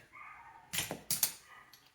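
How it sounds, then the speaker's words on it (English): A small Chihuahua whimpers and gives a few short yips in the background, faint whining tones broken by a couple of quick sharp bursts over about two seconds. "That's my little dog in the background."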